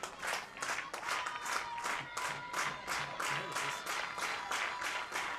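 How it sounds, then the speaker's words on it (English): A softball crowd at a state tournament third-place game claps in a fast, rhythmic unison beat, loud and sustained, with a little cheering mixed in. "You can hear the crowd getting on their feet and behind this Spartan defense"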